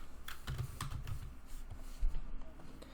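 Quiet, close computer keyboard typing, a short burst of quick clicking keystrokes followed by a few isolated taps.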